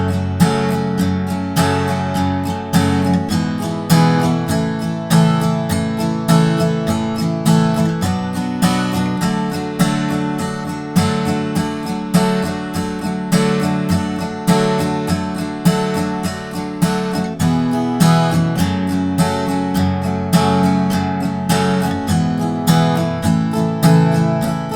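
Acoustic guitar strumming the verse chords of a song, a steady rhythmic chord progression with crisp strokes, close and sustained throughout without any voice.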